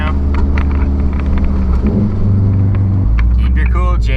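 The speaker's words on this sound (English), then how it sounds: "my car is actually louder than a straight pipe car because it's pretty much like straight out the header" Loud, continuous low exhaust rumble from a Subaru car with a straight pipe and muffler delete, running almost straight out of the downpipe, steady with a slight rise partway through, with someone talking over it.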